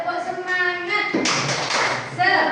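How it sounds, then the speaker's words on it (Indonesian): Children's rhythmic spirit clap in a class or group: patterned clapping bursts following a voice, with kids calling out over the claps. "Tepuk semangat dulu ya, tepuk semangat."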